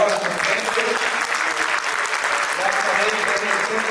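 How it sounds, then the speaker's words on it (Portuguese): An audience at a conference session claps for the speakers, giving a steady, sustained round of applause close to the listener throughout. "Un fuerte aplauso, por favor, para nuestros ponentes."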